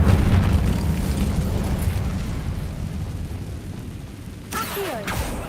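A fire spell blast cast in the Hogwarts Legacy video game, a loud roaring burst that slowly fades over several seconds, with a brief whooshing flare near the end.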